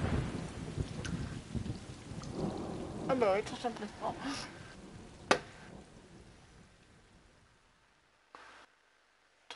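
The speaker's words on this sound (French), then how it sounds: "il faut que j'attende que l'orage y passe" Thunderstorm with steady rain in a cat video game, a dense wash of rainfall with a few sharp cracks and rumbles of thunder, fading toward the end while a person talks over it.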